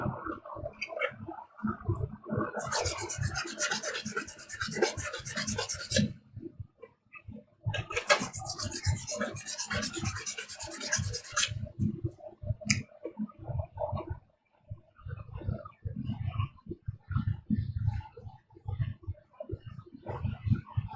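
Hand sanding on a ShoreTrooper or DeathTrooper chest and back armor piece, heard as two bursts of brisk, close scratchy rubbing a few seconds each, with lower clicks and handling noise filling the gaps.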